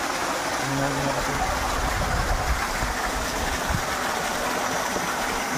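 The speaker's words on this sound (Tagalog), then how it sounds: "Lakas naman yung tubig ngayon." Water gushing from a 3HP solar-powered pump drawing from a 100-foot deep well feeding a fishpond, a loud continuous broadband rush with a low motor hum underneath and a voice talking briefly over it.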